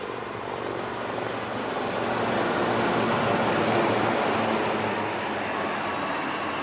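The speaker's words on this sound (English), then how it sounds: "please welcome the brand ambassadors of the Indian Air Force, the Sarang Helicopter Display Team." Indian Air Force Sarang display team helicopters fly past at a 92nd anniversary air show, their rotor and engine noise a broad steady roar that swells slightly mid-pass and holds loud throughout.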